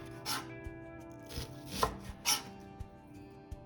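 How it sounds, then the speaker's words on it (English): An onion sliced with a knife on a cutting board, a series of irregular close crisp chops and thuds, some spaced apart, with no talking. "carefully go ahead and slice your onion"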